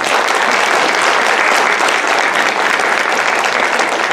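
Concert audience applause in a community hall, steady dense clapping from a large crowd filling the room, loud and sustained without pause.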